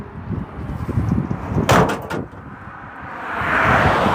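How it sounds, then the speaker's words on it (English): A classic truck's door shuts with a solid thud and brief rattle midway, with engine-like rumble and some shuffling around it. "The door shut's nice."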